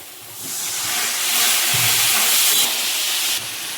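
Masala spice paste frying in a pan after water is added, a loud continuous sizzle and steamy hiss that builds and holds with faint stirring knocks underneath, and no talking.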